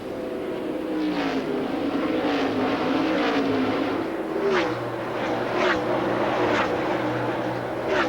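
Busch Series stock cars pulling away at Bristol, a steady loud engine roar with shifting pitch and passing revs under commentary-style talk throughout.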